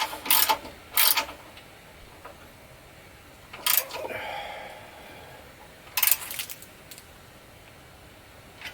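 Ratchet wrench bolting up brake parts on a 1999 Ford Expedition, a few short bursts of quick clicking spaced apart against a quiet garage background.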